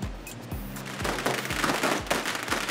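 Fireworks go off in Macau: a rapid series of sharp bangs about every half second, loud and close, over a crackling background.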